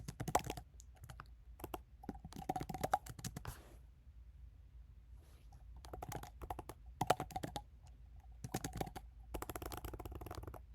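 Code being typed on a computer keyboard, heard as bursts of close, crisp key clicks separated by short pauses, with the rapid tapping coming in clusters throughout.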